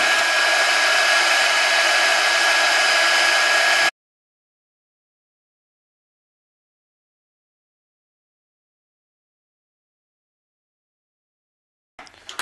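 A heat gun blows loudly for about four seconds while it warms the grounding plate inside a Kindle Fire, then cuts off abruptly into silence.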